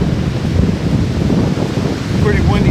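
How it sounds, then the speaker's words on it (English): Strong wind gusts steadily across a wooded lean-to campsite, a loud, continuous broadband roar with rumbling buffeting on the microphone throughout. "Pretty windy day."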